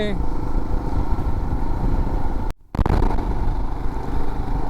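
A motorcycle engine drones steadily up close on a ride through forest hills, with wind rush and road clatter, a brief dropout midway, and a voice talking over it.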